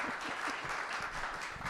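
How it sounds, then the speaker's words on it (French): An audience at a talk on healthy, sustainable food applauds in a steady, even burst of clapping that lasts the whole short stretch without a break. "On peut l'applaudir."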